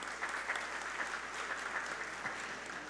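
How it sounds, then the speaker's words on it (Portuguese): Steady, dense applause fills a ceremony hall as a guest, a faculty director, is honoured at a special session marking an association's 85th anniversary; clapping sounds continuous and even throughout, with no talk over it. "Vamos dar uma salva de palmas, doutora Angelita."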